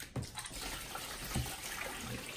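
Water poured from a cup onto torn toilet paper for homemade no-glue slime, a quiet close trickle and splash with faint background noise and no talk.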